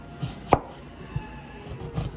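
A knife thinly slicing onion on a board for a home-cooked breakfast: a few separate, crisp cuts at an unhurried pace, close and fairly quiet, with no talk.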